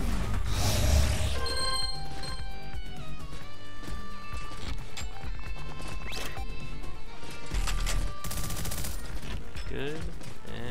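Grenades and gunfire in the video game Hellmut, with rapid bursts of shots and thudding blasts packed densely over a continuous game soundtrack, loud and close throughout.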